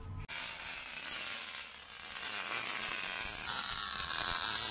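Arc welding on a steel vise stand gives a close, continuous crackling sizzle that starts abruptly and holds steady, with no talk.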